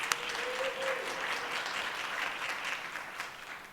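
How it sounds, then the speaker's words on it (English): Applause from the audience at a city summer youth employment luncheon, a steady patter of clapping that stays fairly faint and distant for a few seconds. "Let's give them a round of applause."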